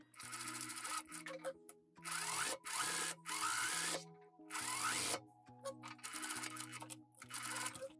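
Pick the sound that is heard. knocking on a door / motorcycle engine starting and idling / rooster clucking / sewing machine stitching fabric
sewing machine stitching fabric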